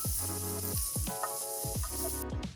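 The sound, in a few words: stir-frying rinsed frozen food in a pan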